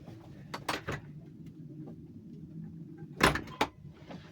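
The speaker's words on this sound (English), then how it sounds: "I'm just going to open the door real quick." A house door is opened to let a meowing cat in, giving a couple of sharp handle and latch clicks and knocks, then a louder clunk and rattle near the end, fairly close against a quiet room.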